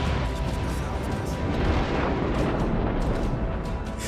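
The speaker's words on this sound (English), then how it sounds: "There's something so satisfying about setting off a chain reaction of explosions and watching an entire military base crumble around you." Video game explosions set off in a chain reaction as a military base crumbles, heard as a continuous dense roar of blasts and rumble with repeated bursts layered over each other, loud throughout.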